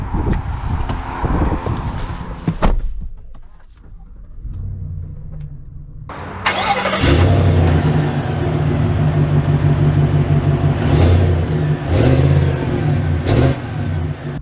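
A 2023 GMC Yukon XL full-size SUV fires up partway through and pulls away, its engine settling into a loud, steady rumble with rising revs as it accelerates, close and clear with no talk.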